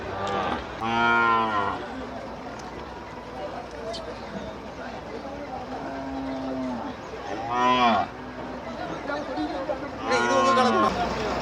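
Cattle at the Melapalayam cattle market in Tamil Nadu give several loud, drawn-out moos, three distinct calls spaced apart over a steady crowd babble and nearby talk.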